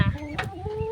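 A chicken that has just laid an egg gives a short, close run of rising clucks, about a second long, with a faint voice nearby.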